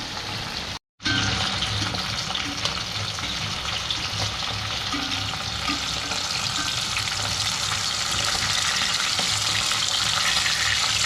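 Pakbet vegetables frying in a pan, giving a continuous loud sizzle with crackling and occasional stirring scrapes, broken only by a brief silent gap near the start.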